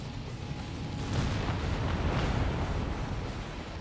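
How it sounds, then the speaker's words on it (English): Artillery fire in Company of Heroes 3, a low rumbling barrage of distant booms rolling together into a steady roar, with no talking. "The artillery keeping the Allies at bay."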